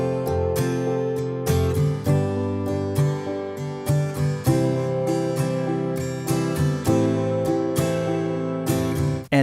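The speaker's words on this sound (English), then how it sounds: "Let's hear how this sounds with our acoustic guitar." A Cubase chord pad pattern voiced with an acoustic guitar sound, rhythmic strummed chords with crisp plucked attacks repeating steadily, clear and alone.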